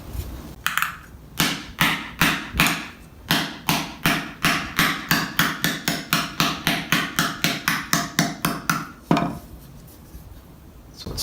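A steady series of about two dozen ringing hammer blows strikes sheet metal being shaped for armor sabatons, using the peen of a specialized hammer in a divot, evenly paced and close, with a short pause before and near the end.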